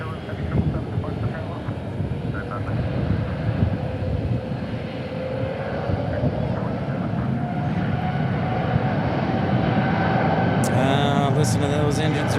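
Airplane engines roar at DFW International Airport, a loud sustained jet rumble that builds and holds throughout, with a faint voice in the background.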